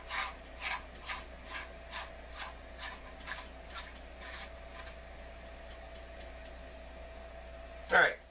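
A barrel nut is hand-threaded onto a rifle upper receiver during a build, giving a close, quiet run of evenly spaced rasping scrapes that fade toward a steady hum, ending with one sharp metallic click.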